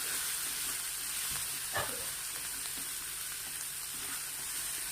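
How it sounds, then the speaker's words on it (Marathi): Dal sizzles steadily in hot oil tempering, a constant bright frying hiss with a brief scrape of stirring partway through, close and unbroken, no talking. "आता तेलावरती ही डाळ व्यवस्थित आपल्याला फोडणीमध्ये परतून घ्यायची आहे"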